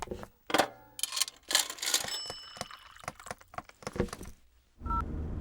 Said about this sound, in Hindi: मधु, फोन करो।